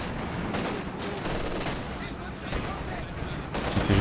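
Dense rattling gunfire and explosions in a WWII strategy game battle with tanks like the Panzer IV and T-34-85, continuous and loud with a voice commentating over it.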